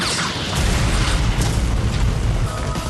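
A heavy video game explosion roars as a sustained, loud blast of rumbling noise that fills the whole moment, with no voices present.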